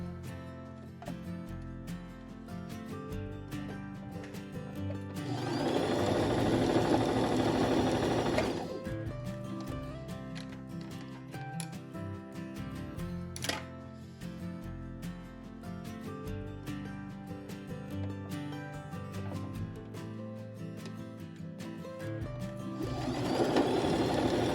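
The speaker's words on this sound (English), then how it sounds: "So then we're going to sew a straight stitch here" A sewing machine runs a straight stitch along a fabric bowl coozie, a steady motor whir with bursts of faster, louder stitching around the middle and near the end, heard alone without talk.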